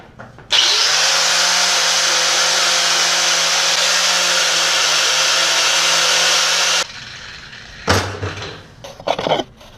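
A power tool buffs a 350 Chevy small-block engine block during a teardown, a loud steady high whine running for about six seconds before stopping abruptly, followed by a few clanks and scraping handling noises.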